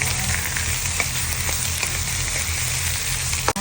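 Wagyu beef sizzles steadily in a pan with onion and garlic, a dense continuous frying hiss with no talk over it.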